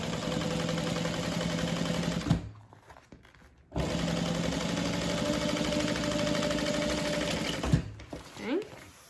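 A sewing machine stitches a handbag seam in steady, rapid runs, its motor humming and needle clattering up close, stopping briefly, then running again before slowing and halting near the end.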